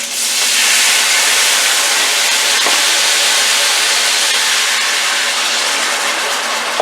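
Water added to hot oil in a cooking pan for a Spanish chicken stew boils up into a loud, steady sizzling hiss that holds for several seconds, with no talking.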